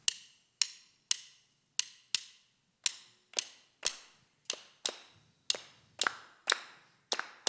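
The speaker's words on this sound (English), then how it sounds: "The main rhythm that we inherited from Africa, everybody clap with me." Sharp, evenly spaced hand claps keeping a steady beat, a rhythm inherited from Africa, each crisp clap ringing briefly in a quiet room, about two per second with no talking.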